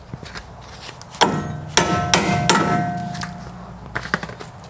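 Several sharp metallic hammer strikes on a 1993 Mazda Miata tie rod end link, irregularly spaced, ringing briefly against metal, followed by lighter taps.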